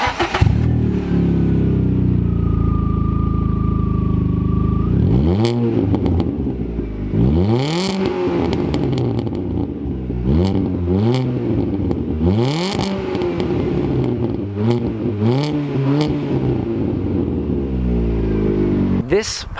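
A Fiat Panda with a shortened BMW exhaust and a straight-piped Abarth back box cranks and starts, then gives a series of sharp raw revs rising and falling, loud and close.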